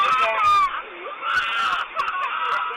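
A child screams shrilly aboard a school bus as a man lunges on and strikes the driver, captured by onboard surveillance; the loud, wavering cries fill most of the moment amid cabin commotion.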